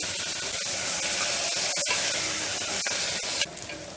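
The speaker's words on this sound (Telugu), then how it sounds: "ఉల్లిపాయ ముక్కలు, పచ్చిమిరపకాయ ముక్కలను వేసుకుని వేయించుకోవాలి" Chopped onions and green chillies fry in a pan, making a close, continuous sizzle with brief scraping and stirring knocks; the sizzle eases slightly near the end, with no talking.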